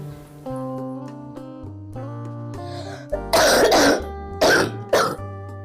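A woman coughs in a burst of harsh, throaty coughs, two or three loud fits following each other over soft background music.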